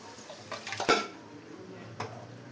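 Cooked mutton being stirred into biryani masala in a pot, with a few soft scrapes and clinks of a utensil against the pot, one louder knock near the middle, fairly close and otherwise quiet.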